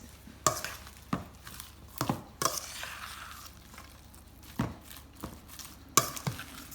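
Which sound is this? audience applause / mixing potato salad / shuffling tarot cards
mixing potato salad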